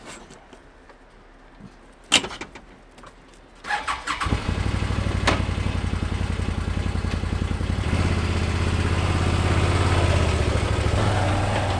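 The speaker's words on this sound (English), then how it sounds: "so you might hear some other ATVs in the background" An off-road engine on a trail near a Can-Am Defender UTV camp clatters to life after a few clicks, then settles into a steady, close, rhythmic idle that grows slightly louder.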